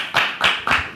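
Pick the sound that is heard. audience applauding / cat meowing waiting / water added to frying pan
audience applauding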